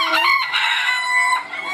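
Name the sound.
roosters crowing and clucking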